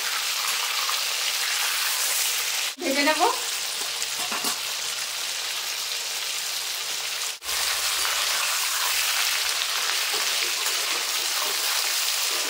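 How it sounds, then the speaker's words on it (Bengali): Chicken pieces sizzle loudly in hot oil in a pan for Bengali chicken kosha, a constant crackling fry broken by a brief scrape and clatter as the pieces are turned over. "তো এই মাংসগুলো আমি একবার উল্টে দেবো। উল্টে পাল্টে একটু ভেজে নেবো।"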